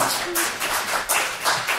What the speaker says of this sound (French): On applaudit Aude. On applaudit.